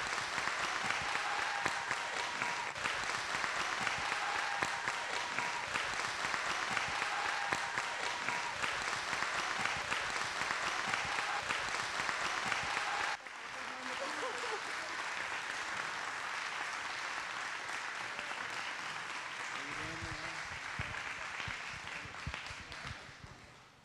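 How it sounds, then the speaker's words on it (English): An audience at an elementary school performance of Annie Jr in Frankfort, Kentucky claps for Jessica Masters, a dense sustained wave of applause that dips slightly midway, then carries on and trails off. "Let's give Jessica Masters a round of applause."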